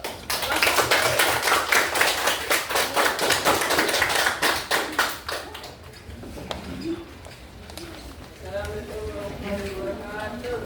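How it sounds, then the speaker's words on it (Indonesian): Classroom applause for a student group about to present. Brisk, close clapping dominates the first half, then dies away, and voices talk quietly afterward. "Ayo, tepuk tangan untuk"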